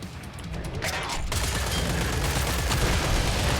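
Dense, continuous gunfire in the video game Killing Floor 3, a rapid, loud barrage of overlapping shots and bursts that fills the whole short stretch without pause.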